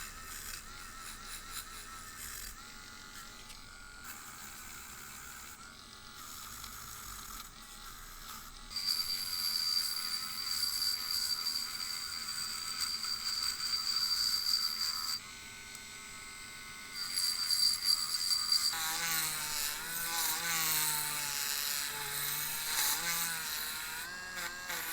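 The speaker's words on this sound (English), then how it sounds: "Well, it's time to polish the metal." A small rotary polishing tool whines steadily while buffing the metal parts of a Matchbox 10c Foden sugar container toy truck, growing louder and harsher about a third of the way in, dropping briefly, then returning with a wavering pitch.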